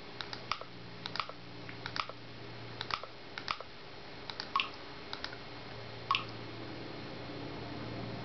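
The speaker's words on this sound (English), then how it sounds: "Even with the mouse, it's kind of difficult to type on an on-screen keyboard." Scattered soft mouse clicks picking letters on a Windows Phone 7 on-screen keyboard, irregular single taps spread across several seconds over a faint steady hum, fairly quiet and close.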